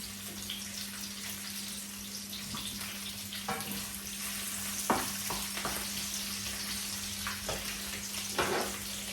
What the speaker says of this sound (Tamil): இப்போ பாருங்கள் கரிமிளகாய் பொறி போட்டு கொண்டு இருக்குது